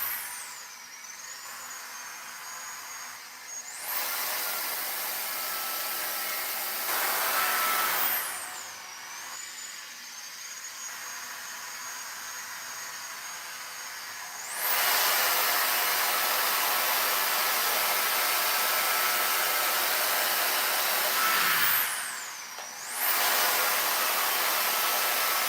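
Hair dryer blowing while hair is straightened, a steady airy whoosh with a high whine that cuts in and out several times as the dryer is switched or moved, fairly close, with no talk.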